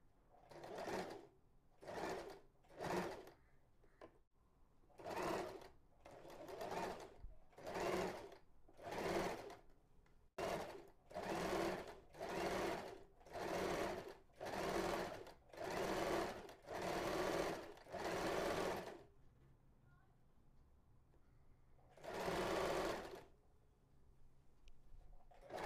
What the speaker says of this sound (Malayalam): ഇങ്ങനെ നമുക്കിനി തയ്ച്ചെടുക്കാം.